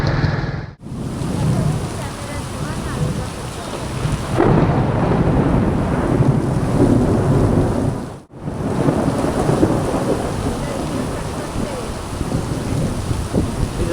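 Heavy monsoon rain pours down steadily in Bhiwandi beside the Mumbai–Nashik highway, a loud continuous roar with rumbling thunder, briefly cut by two sharp drops in sound.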